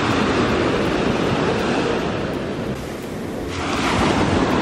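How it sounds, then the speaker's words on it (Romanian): Sea waves break on a beach in Spain, a steady broad roar of surf with wind noise, close and loud with no voices over it. "Multe valuri."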